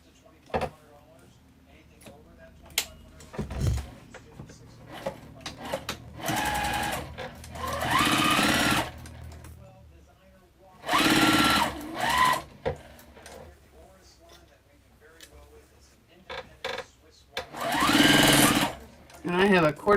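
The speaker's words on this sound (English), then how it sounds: "Just going to sew this at 1/4 of an inch." A sewing machine runs in several loud bursts, stitching a quarter-inch seam joining rows of a bow tie quilt top with a quarter-inch presser foot, with quiet pauses between runs.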